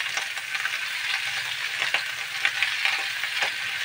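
Pechay stems, the tough lower part, frying in a pan before meat and eggplant go in, giving a steady close sizzle with faint stirring taps throughout and no voices.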